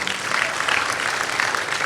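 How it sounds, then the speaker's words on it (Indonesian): Steady applause from a church audience, a dense continuous wash of clapping with no voices standing out. "Beri tepuk tangan yang meriah buat Tuhan"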